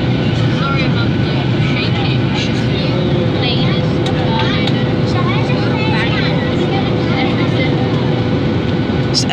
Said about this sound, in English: Air turbulence, the plane's shaking, it's night time.